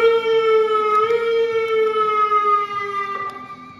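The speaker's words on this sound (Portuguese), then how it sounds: "Ligou a sirene" Electronic siren on an RGT-5 vehicle sounding loud and close, a steady wailing tone that holds and slowly drops in pitch before fading slightly toward the end, with a few clicks over it.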